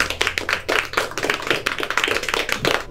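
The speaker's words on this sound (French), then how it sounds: "Je crois qu'on peut les applaudir." A small group clapping hands in a radio studio, distinct close claps in quick irregular rhythm rather than a large crowd, steady for a few seconds.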